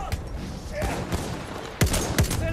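A medic rifle is fired in Battlefield 1 multiplayer, with a few sharp, separate shots at a regular pace over a busy battlefield background of distant gunfire.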